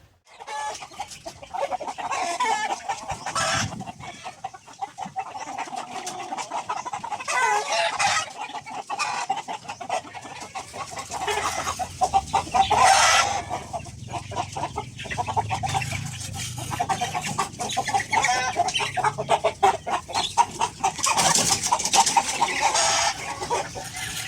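Young chicks on a backyard poultry farm cheep and peep constantly in a dense, overlapping chorus, loud and close, with occasional clucking from older fowl mixed in.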